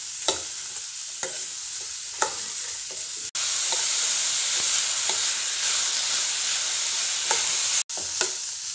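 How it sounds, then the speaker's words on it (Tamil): Vegetables sauté in a pan with salt, giving a bright, steady sizzle that swells louder partway through. Sharp scrapes and clinks of stirring recur every second or so. No one speaks. "உப்பு போட்டு நல்லா வதக்கிக்கணும்."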